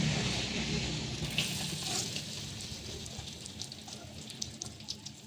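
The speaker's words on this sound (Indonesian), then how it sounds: "setelah dipotong per bumbuannya, langsung saja kita tumis" Chopped spice paste sizzles and crackles steadily in a hot pan while being stir-fried, a constant close frying hiss with occasional stirring scrapes.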